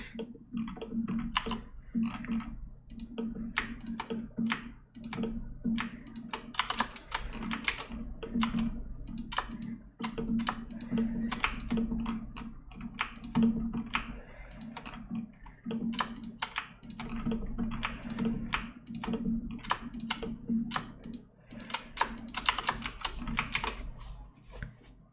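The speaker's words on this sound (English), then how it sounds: "Case, why is your keyboard louder than your voice?" A computer keyboard rattles with fast, clicky keystrokes in uneven bursts across twenty-five seconds, close and fairly loud over a low steady hum, with no talking.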